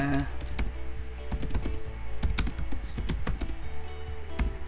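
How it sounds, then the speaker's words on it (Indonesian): Fast typing on a computer keyboard: dense, close clatter of keystrokes in quick bursts, with a voice talking over it. "misalnya kita ketik aja Iketut Wijaya"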